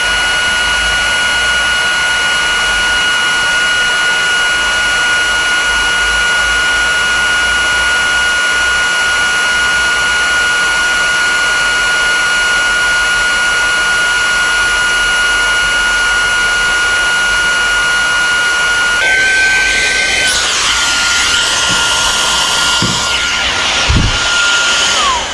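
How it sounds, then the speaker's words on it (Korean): A Mountriver Tornado25 cordless air pump drones steadily at close range while it deflates a mat. Near the end the whine shifts and falters, then a few handling clunks and rustles follow. "지금은 그래서 펌프를 넣어서 바람을 빼면 골고루 이렇게 내려갑니다"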